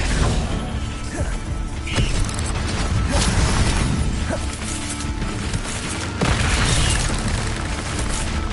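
Spellcasting in the Hogwarts Legacy video game, with a disarming spell cast in a duel: loud, repeated crashing bursts and booms, each hit punching through a busy, dense layer of combat sound effects.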